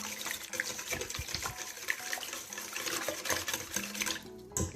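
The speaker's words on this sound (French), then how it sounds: "je continue à mélanger mes ingrédients" Donut dough ingredients being mixed in a bowl, a continuous wet sloshing and scraping churn with busy rhythmic stirring and no voice.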